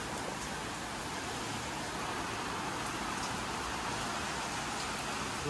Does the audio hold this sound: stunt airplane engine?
no